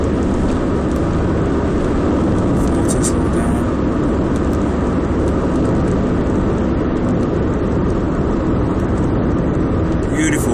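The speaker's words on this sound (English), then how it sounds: "I'm going along at 60 miles an hour. The engine's still quite smooth." A Mazda 626 2.0 cruises at 60 mph, its engine a steady, smooth drone blended with broadband road and wind noise that stays constant and loud throughout, with someone talking over it.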